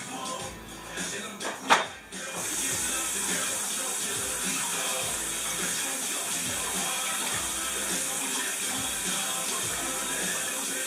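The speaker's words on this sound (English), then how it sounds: "I'm going to wash them under cold water to get rid of the salt" Cold tap water runs steadily into a sink as brined smoked ribs are rinsed under it, a brief clatter of handling coming before a constant, close, even hiss of flowing water.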